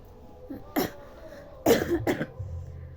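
Three sharp coughs from a person whose lungs were damaged by swallowed acid, close and fairly loud: one short cough, then two heavier ones in quick succession, followed by a low rumbling hum.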